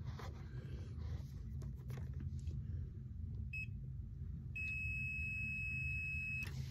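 A multimeter set to continuity gives a steady electronic beep as its probes read a treadmill speed sensor magnet, the tone holding through the last couple of seconds over a low background hum.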